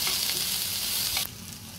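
Loud, steady sizzling of onion frying in hot oil, close up, cutting down abruptly to a quieter crackle near the end.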